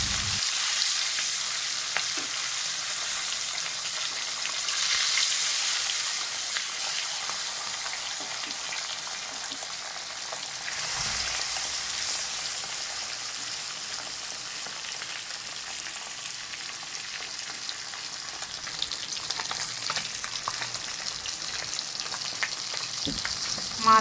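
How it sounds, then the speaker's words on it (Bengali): Parshe fish fry in hot mustard oil in a pan, a steady close hiss and crackle sustained throughout with occasional stirring scrapes, no talking. "তেল গরম হয়ে উঠেছে, এবার মাছগুলো দিয়ে দেবো।"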